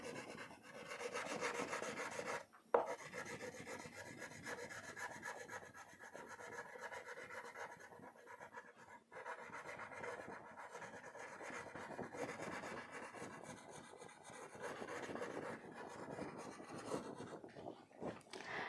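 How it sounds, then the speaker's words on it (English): A brown crayon rubs back and forth across paper in a children's colouring demonstration, making a close, steady, scratchy rasp of repeated strokes in one direction, with one brief louder knock early on. "Now we will use a brown crayon. See children, I am always coloring in the same direction."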